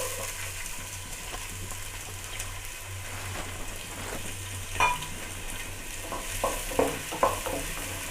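Two finely chopped onions frying in hot oil with cardamom for a South Indian vegetable broth, giving a steady close sizzle throughout, with a few sharper crackles and pops near the end and no talking.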